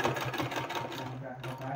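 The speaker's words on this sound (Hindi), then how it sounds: "इसको इस तरह से पलट के और इसमें सिलाई लगा देना है हमको" A sewing machine stitches a neck design with a rapid, steady mechanical whirring and clatter, close by, while a voice speaks over it.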